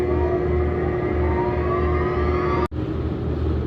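A 100 HP vertical hollow shaft electric motor spins up, giving a steady loud hum and whir with rising whine tones, broken by one abrupt brief dropout near the end before the drone resumes.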